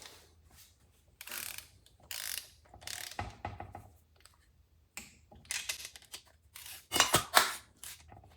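Bursts of metallic ratcheting clicks from a wrench tightening engine bolts to 86 inch-pounds during a 1992 Subaru Sambar engine rebuild, coming in short irregular runs separated by pauses, close and fairly quiet.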